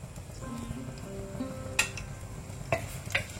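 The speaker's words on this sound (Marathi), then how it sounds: "ताका इल्लें नारळेलें तेल घालचें तेल उन जाल्लेंत एक धाकटो पियाव लांबा एक कातरून घालचो" A small onion sliced lengthwise frying in hot coconut oil in a pan, a faint low sizzle with a few sharp utensil clicks and scrapes against the pan, quiet and close, no voices.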